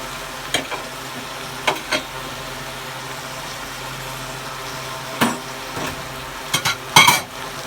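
A big chopped tomato sizzles in hot oil with small bay leaves, a steady low fry broken by a few sharp clinks and scrapes of a spoon stirring the pan.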